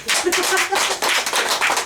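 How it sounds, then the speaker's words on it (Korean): Breakfast forum audience clapping at a lecture, a short burst of fast, busy applause from many hands, close and loud, with a voice briefly mixed in. "예, 그럼 박수가 있어야 됩니다."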